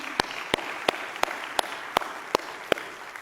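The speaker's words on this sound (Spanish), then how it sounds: "Dale un fuerte aplauso a Él." Sharp, evenly spaced claps ring out about every third of a second over a soft bed of background noise, a steady rhythmic clapping with no talking.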